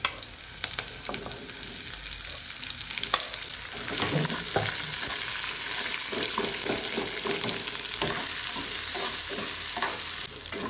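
Onions fry in a pan with a steady, close sizzle, broken by scraping stirs and occasional clinks as the pieces are turned.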